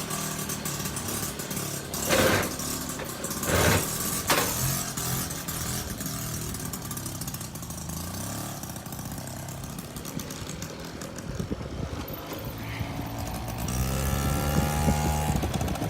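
A Motobecane moped engine buzzes steadily throughout a ride, holding a continuous droning tone with small swells and dips in pitch as the throttle shifts, close and fairly loud with wind noise mixed in.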